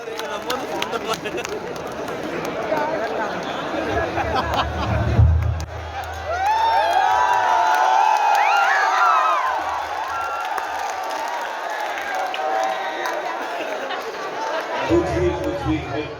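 A crowd at a college mushaira in Ghazipur greets a poet with clapping, cheers and chatter, a loud, broad swell of noise that rises and fades, with talk and a voice woven through it.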